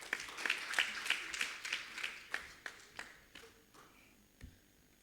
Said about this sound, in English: Please clap hands for him.